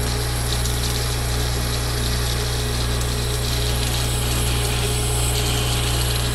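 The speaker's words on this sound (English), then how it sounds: "We're near what the parting blade is gonna give me on this cut, but it's going good so far." A lathe parting blade cuts into metal, making a steady, unbroken machine drone with a constant low hum and a grinding hiss of the cut that holds even for several seconds.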